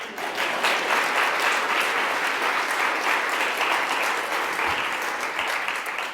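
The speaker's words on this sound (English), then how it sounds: "Applause for Austin." An audience at a literary festival event applauds a member of the events team, giving a dense, steady round of clapping that holds evenly for several seconds.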